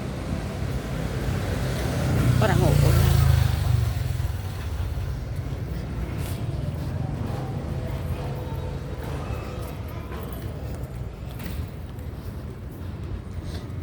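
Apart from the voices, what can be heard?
motorcycle passing on the road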